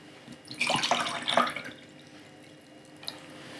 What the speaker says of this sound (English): pour a bit off to make some space